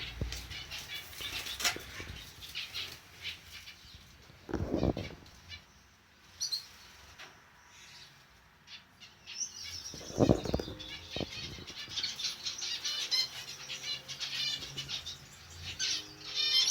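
Bursts of fluttering wingbeats come and go close by, mixed with light scratching, pattering and a few faint chirps.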